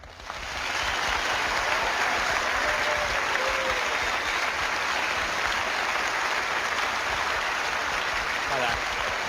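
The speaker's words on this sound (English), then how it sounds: "give him a round of applause to our member of the audience, Vince Draper." A live studio audience at a paranormal television broadcast applauds loudly and steadily, a dense sustained clapping that swells in within the first second and holds without pause, no speech over it.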